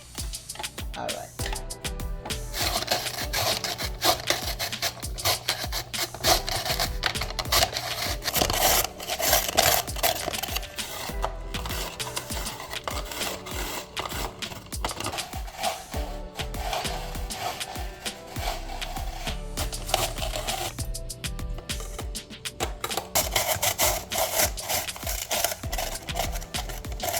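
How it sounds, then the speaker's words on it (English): A vegetable shredder cuts carrots for a carrot salad, giving a steady, dense scraping and grinding noise that runs almost without a break and dips now and then. "You can also use a grater to shred the carrot. But here I am going to use this."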